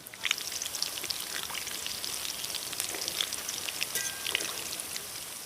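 Pakoras deep-frying in hot oil, making a dense, continuous crackling sizzle like pattering rain that holds steady and close throughout, with no voices.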